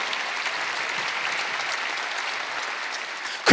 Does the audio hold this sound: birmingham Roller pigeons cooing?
no